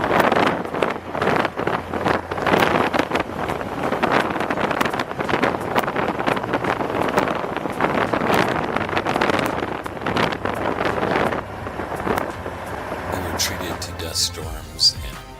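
Heavy wind in Death Valley, California, buffeting the microphone in strong, uneven gusts, a loud roaring rush that eases off near the end.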